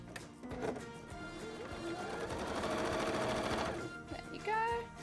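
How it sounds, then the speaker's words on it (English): A sewing machine runs in a short burst to sew up a small gap in a cosplay piece, its whirring needle chatter building and fading amid handling noise, with brief voice sounds near the end. "I'm going to sew that up quickly."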